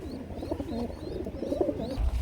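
Lahori and racer pigeons at a farm coo in low, throaty, overlapping rumbles, close and continuous, with faint bird chatter over the top.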